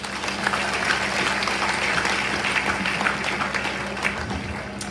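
Congregation applauding during a French-language church service, steady sustained clapping filling the room at moderate loudness for the whole stretch, with no voices over it.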